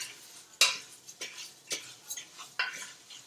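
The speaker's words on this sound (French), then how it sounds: "On va le mélanger un peu." Risotto rice stirred in a pot to coat the grains with oil, a series of scraping strokes and light clinks of a utensil against the pot over a faint sizzle.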